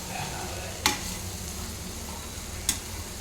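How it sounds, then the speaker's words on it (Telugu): Black-eyed peas and chicken sizzling steadily in a frying pan, a soft continuous fry with two brief sharp clicks of stirring, close and fairly quiet. "ఇంకొంచెం ఫ్రై అవ్వాలి ఇంకా ఉడకలేదు"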